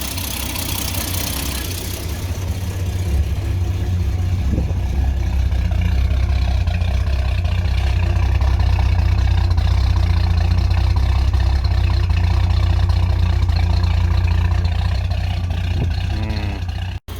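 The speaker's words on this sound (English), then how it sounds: "you can definitely hear an exhaust leak still down there." A Ford XG car engine with an exhaust leak idles steadily and loudly, running a bit rough with a deep rumble and a faint ticking puff throughout, continuous with no talking.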